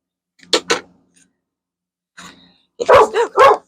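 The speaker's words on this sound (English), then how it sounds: "that dog scares the poop out of me all the damn time" A dog barks nearby, two quick sharp barks, a pause, then a softer yip followed by a burst of three louder barks in close succession, with no talk.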